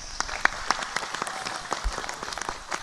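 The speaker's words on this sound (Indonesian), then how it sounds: "Tepuk tangan untuk Pak Bupati" An audience gives scattered, moderately loud applause at an Islamic pengajian sermon gathering, with distinct individual claps rising above a soft crowd murmur.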